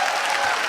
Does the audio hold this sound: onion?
no